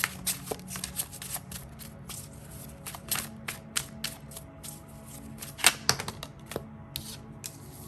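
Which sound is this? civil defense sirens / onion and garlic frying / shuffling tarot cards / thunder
shuffling tarot cards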